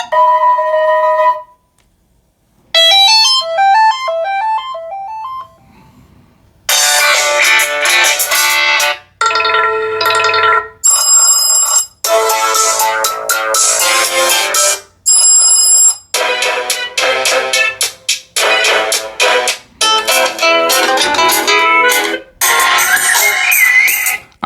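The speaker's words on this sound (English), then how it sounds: "Let's go to phone ring." An Oukitel WP33 Pro rugged phone with a 136 dB speaker plays a series of ringtones at full volume: loud, bright melodic chimes and electronic tones in separate bursts, with short silent gaps between them.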